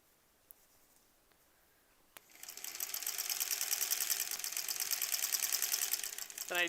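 A domestic sewing machine stitching the second row of a quilt, starting after a couple of quiet seconds with a click, then running as a fast, steady, close mechanical chatter.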